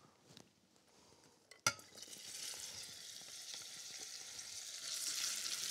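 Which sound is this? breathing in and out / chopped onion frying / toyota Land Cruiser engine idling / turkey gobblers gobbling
chopped onion frying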